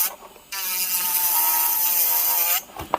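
iGel Beauty nail e-file drill spun up to 20,000 RPM, a steady high-pitched whine holding for about two seconds before cutting off, close and loud, with no voices.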